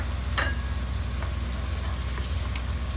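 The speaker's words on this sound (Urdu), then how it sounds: "اس میں دہی ڈال کے تھوڑا سا چلائیں گے" Chicken white karahi sizzles steadily in a pan as yogurt is stirred in, a dense continuous frying hiss with a few faint scrapes of the utensil and no voices.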